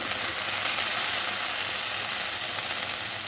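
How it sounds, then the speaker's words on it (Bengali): Potatoes frying in a pan give a steady, close sizzle that holds evenly throughout with no talk over it. "বসিয়ে দিয়েছি একটু আলু ভাজা"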